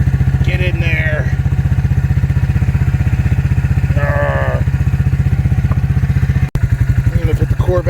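A small engine idles loudly and steadily with a rapid, even putter while a lifted wheel spins freely in the air; a person talks briefly over it, and the engine sound cuts out for a moment near the end.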